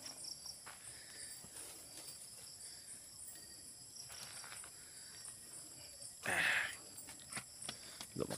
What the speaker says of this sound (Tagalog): Puro kuliglig na maririnig natin dito.